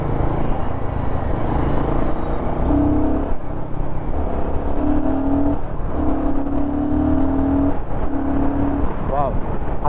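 A Royal Enfield Guerrilla 450 motorcycle rides along a road with a constant loud engine and wind rumble, its tone rising and falling through gear changes. A rider talks over the noise throughout.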